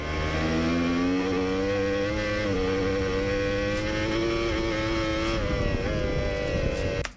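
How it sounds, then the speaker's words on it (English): A racing motorcycle holds a steady, loud engine note on the throttle through a long corner at the Imola track. The pitch sags slightly and then rises again before the sound cuts off. "Look at how, for the whole corner, he keeps making the bike turn with the throttle."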